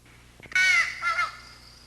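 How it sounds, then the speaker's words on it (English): A crow caws twice, loud and close, two harsh calls in quick succession over quiet background. "crows just caw"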